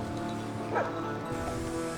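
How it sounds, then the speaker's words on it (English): Dogs bark and yip faintly in the distance along a historic mining trail in Alaska, heard briefly over the steady drone of an off-road vehicle. "Got some dogs over here."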